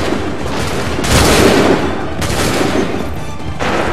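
Musket volley gunfire in the video game Assassin's Creed 3, a dense, sustained crackle of massed shots with two louder bursts and no speech over it.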